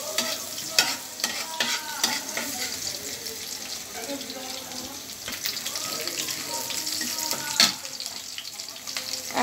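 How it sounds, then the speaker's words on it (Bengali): Chinese-style vegetables with chopped ginger stirred in a frying pan, a steady sizzle with repeated scraping and clinking strokes of the utensil, close and moderately loud, running alone without talk. "এখন আমি এটাকে একটু নাড়াচাড়া করব"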